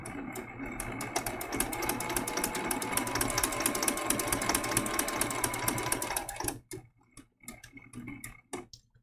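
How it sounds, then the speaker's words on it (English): A sewing machine stitches down an appliqué circle on a giraffe quilt in a rapid, steady run of mechanical ticking, then stops and gives way to a few scattered clicks and handling sounds. "See how fast I stitched down that circle?"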